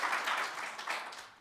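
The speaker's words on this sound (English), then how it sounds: "Round of applause for Dan." A conference audience in a plenary room gives brief, faint applause for a speaker, a soft patter of clapping that fades out within a second or two.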